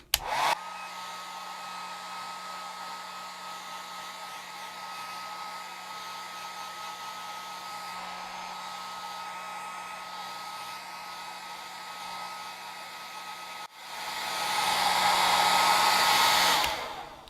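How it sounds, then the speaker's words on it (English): A hair dryer blows in a steady, close whir while drying a sumi-e style maple painting, briefly cutting out and then returning louder and breathier near the end. "the hairdryer, I'm not keeping it in one place for very long."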